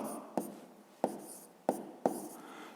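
A pen or chalk writes down a maths answer, giving four sharp taps spaced about two-thirds of a second apart, each with a short scratchy tail, close and quiet with no talk.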